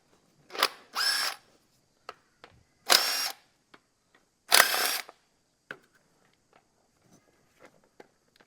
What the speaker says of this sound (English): I'm just going to take a 1/2 inch socket on my nut gun. We'll loosen all these fellas out.